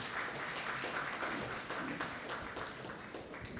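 An audience applauds panel members arriving at a university money week event, a faint, steady wash of clapping heard at a distance.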